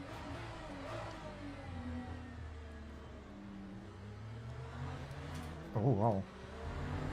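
Naturally aspirated V12 race car engine in Le Mans Ultimate, a steady droning roar with a brief rising rev near the end, under a short excited spoken exclamation.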